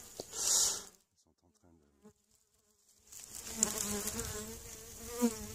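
Honeybees flying around their hive on a sunny 14-degree January day: a loud close buzz as one bee passes by, a brief lull, then a fuller, continuous humming of many bees near the entrance.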